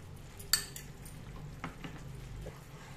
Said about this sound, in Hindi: जब तक ये पैन ना छोड़े तब तक मैं चलाती रहूँगी